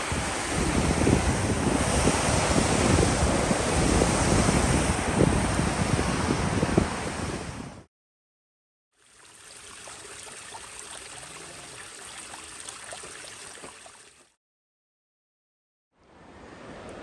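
A fast-flowing mountain river on the Tour du Mont Blanc, a loud, broad roaring rush with wind buffeting the microphone, heard in separate takes cut by short silences, the middle section quieter.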